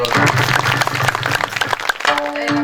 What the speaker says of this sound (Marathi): पुन्हा नाना भाऊ साठी एकदा टाळ्या वाजवा